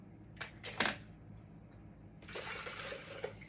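Water poured into a bread dough mixture in a home kitchen, two short splashy bursts followed by a longer steady pour, fairly faint over a low background hum.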